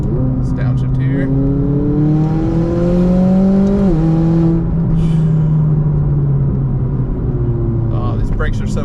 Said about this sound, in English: Let's downshift here.